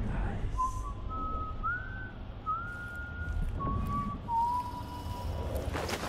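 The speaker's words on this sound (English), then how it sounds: "that's some real nearby whistling" A game character in Dishonored 2 whistles a slow, wavering tune of a few sustained notes nearby, over a low ambient background rumble, with no talk.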